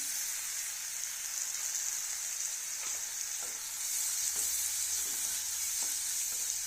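Chopped tomato sautéing in a pan for prawn masala, a steady close sizzle and hiss of frying with faint stirring clicks scattered through, alone without talk.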